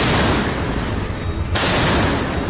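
A German PzH 2000 artillery gun fires shells: dense, loud, continuous booming roar throughout, with no talking.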